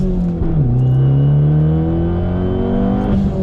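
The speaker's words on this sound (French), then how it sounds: "On l'entend bien quand même le turbo. Le turbo et la dump." A Fiat Punto Abarth Evo stage 2 with about 215 hp revs under acceleration, turbo whistle over a droning engine, then a quick dump-valve release near the end as the revs drop, heard close from inside.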